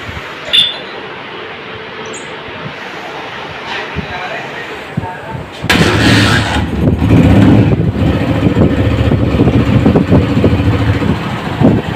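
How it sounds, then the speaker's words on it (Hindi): A 2011 Honda CG 125 motorcycle engine starts partway through after quiet background sounds, then settles into a steady, close, low idle. "सबसे पहले बाइक को स्टार्ट करते हैं, इसका साउंड सुनते"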